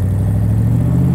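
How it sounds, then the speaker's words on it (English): Engine of a Factory Five Shelby Cobra replica styled after a 1965 car, idling with a deep steady exhaust rumble and a low even drone, close and loud, with no talk over it. "Exhaust sounds amazing."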